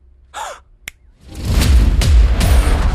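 A single sharp finger snap sounds briefly in a near-quiet moment after a soft breathy sound, then a loud swelling whoosh of music or effects takes over.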